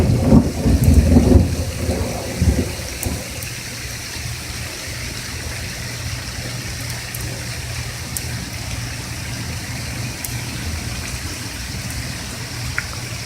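Thunderstorm in Michigan, with a loud rumble of thunder up front that fades into steady, dense rain falling on surfaces for the rest of the stretch.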